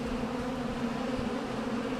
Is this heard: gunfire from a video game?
no